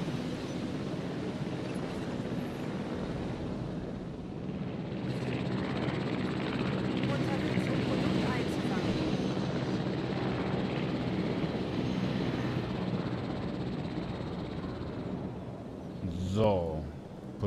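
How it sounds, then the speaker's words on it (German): A transport helicopter in the Jurassic World video game gives off a continuous rotor and engine drone under steady talk, ending with a brief rising whoosh. "So, Transporthelikopter. Den hier darüber."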